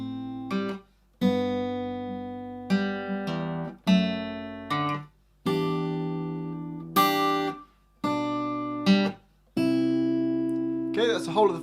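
An acoustic guitar plays the first line of a song, a string of strummed and picked chords with ringing sustain and short gaps between them, close and clear, with a voice starting at the end.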